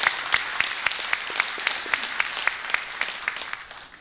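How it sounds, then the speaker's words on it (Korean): Audience applause at a university presidential farewell and inauguration ceremony, a steady crowd clapping with sharp individual claps rising above the wash, sustained for several seconds and gradually softening toward the end. "박수 부탁해 주십시오."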